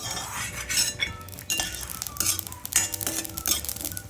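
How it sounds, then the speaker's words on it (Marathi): Spices and peanuts being roasted in a pan, stirred with a metal spoon, making busy close scraping, rattling and clinking against the metal in an uneven continuous stream, with no speech. "हे आपण आता मसाले आहेत ना आपले ते भाजूया"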